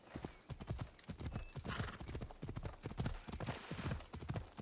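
Horse hooves clip-clop in a fast, steady rhythm, with an occasional neigh, in the video game Assassin's Creed Odyssey, fairly quiet and with no talk over them.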